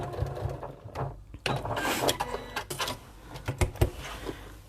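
A sewing machine stitches binding along a bag edge from the top toward the fold, sounding as uneven bursts of mechanical whirring and clatter, close up, with short pauses between runs.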